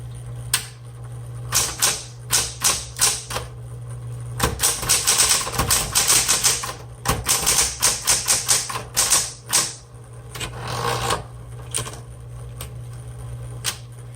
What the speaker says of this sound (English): let's go ahead and start typing